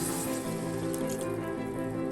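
Water poured from a cup into a pot of simmering fish curry masala, a steady close pour with a continuous bright splashing wash lasting about two seconds.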